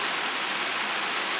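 A waterfall on a forest trail, seen from its top, gives a steady broadband rushing hiss of falling water, constant and unbroken with no voices.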